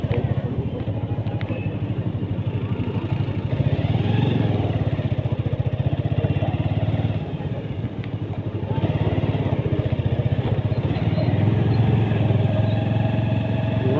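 A motorbike engine runs steadily for the whole stretch during a bike trip through Nainital in Uttarakhand, a loud, close, continuous drone with a brief dip midway.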